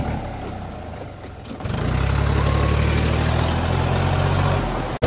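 A large paddy-model tractor engine works in a rain-soaked, muddy grape vineyard, a loud low idle that swells into a steady heavy drone for several seconds before cutting off abruptly.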